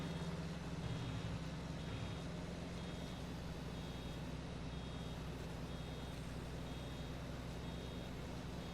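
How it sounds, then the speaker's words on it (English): Steady electronic reversing beeps from a vehicle in a farming video game, repeating at an even rhythm over a continuous low engine drone. "Could you do something about that incessant beeping, or is it in your head?"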